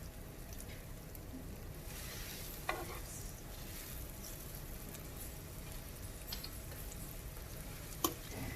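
Chicken browns in a large electric skillet for chicken Marsala, giving a faint, steady sizzle throughout with two sharp utensil clicks, one near the start and one near the end.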